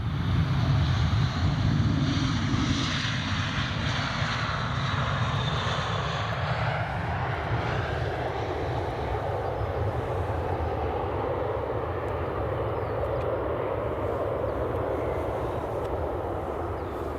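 A United airliner on ILS approach to runway 24 at Edinburgh Airport, a steady, loud jet engine roar that holds throughout with a slowly shifting tone, heard from the ground.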